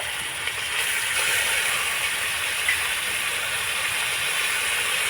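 Grated potato fries in a hot pan with a steady, even sizzling hiss that holds without a break.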